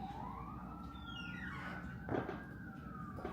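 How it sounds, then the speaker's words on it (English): Police siren wailing in rising and falling sweeps at a moderate distance, with a brief thump partway through and no speech. "The sirens are just here for dramatic effect"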